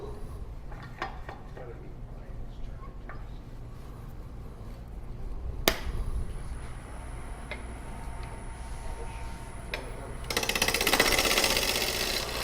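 A woodturning gouge cuts a bowl on a lathe during a club demonstration, a steady whirring, scraping drone with scattered ticks and one sharp knock, growing louder and hissier near the end.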